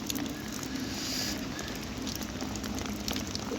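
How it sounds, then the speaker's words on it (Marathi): Dense, steady patter of heavy afternoon rain drumming on a surface, constant and moderately loud with no pauses. "आज सकाळपासून मुसळधार पावसाला सुरुवात झालेली आहे"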